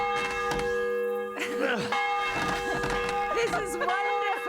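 A church bell in the video game Kingdom Come: Deliverance rings with a sustained, humming resonance throughout, while voices talk over it close by.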